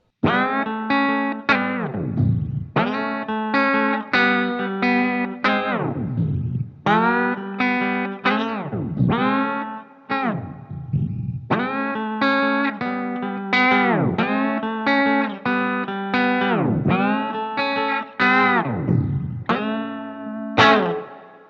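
Electric guitar chords strummed through a Cooper FX Generation Loss V2 lo-fi modulation pedal, pitch warbling, wobbling and tape-like, played in repeated phrases without talk.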